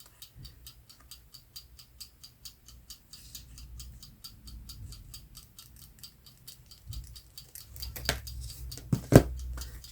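Scissors snip through paper for a journal layout showing part of an Eiffel Tower image, a quiet steady run of small crisp cuts with a few louder handling sounds near the end, no talking.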